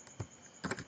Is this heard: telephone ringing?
no